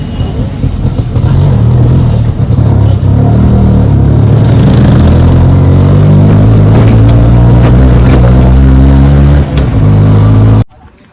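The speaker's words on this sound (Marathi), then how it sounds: "आता आम्ही निघालो आहे, रिक्षात बसलो आहे." An auto rickshaw engine runs loudly and steadily throughout the ride, a continuous mid-range drone with rumbling low tones and faint rises in revs, cutting off abruptly at the end.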